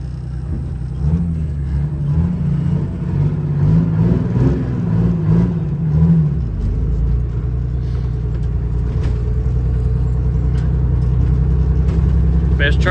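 A truck engine runs on a farm, a loud deep steady rumble with a rising revving tone early that settles into an even idle, close by, with a voice heard at times over it.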